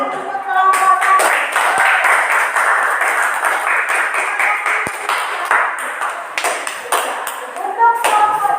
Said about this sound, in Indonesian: Sekarang beri tepukan untuk kelompok 1